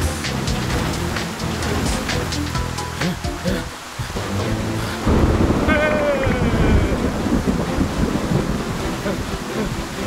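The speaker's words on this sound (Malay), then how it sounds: "Hujan sangat lebat dan cuaca sejuk." Heavy rain pours steadily through a cartoon scene about dinosaurs, a dense, continuous hiss with gusty, surf-like swells, while characters talk over it.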